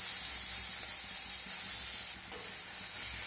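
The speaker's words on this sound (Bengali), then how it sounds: "টমেটো দিয়ে আবারও নাড়াচাড়া করে ভেজে নিতে হবে, এই টমেটোর কাঁচা গন্ধ চলে যাওয়া অবধি।" Chopped ripe tomatoes fry with onions in a pan in a soft, steady sizzle, stirred now and then, with a brief scrape near the end and no talk.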